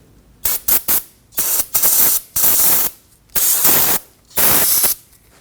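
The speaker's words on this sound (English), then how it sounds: "I'm going to use some brake parts cleaner." Brake parts cleaner sprayed from an aerosol can onto a brake caliper bracket from a 2015-2024 Ford Edge, in several loud hissing bursts of varying length separated by short pauses.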